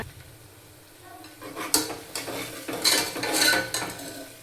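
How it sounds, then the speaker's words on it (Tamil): Onions cut into medium pieces sautéing in a pan for a green pea milk pulao, a low sizzle broken by loud metal spoon scrapes and clinks against the pan, close by and without speech. "வெங்காயம் கலர் சேஞ்ச் ஆகுற வரைக்கும் வதங்கட்டுங்க."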